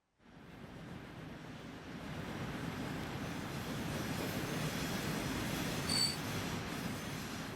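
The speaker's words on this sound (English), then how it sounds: "So this train's gonna pull over here." A train in the video game Transport Fever 2 rumbles along as a steady broadband roar that holds for several seconds. A brief squeal sits near the end, with no voices.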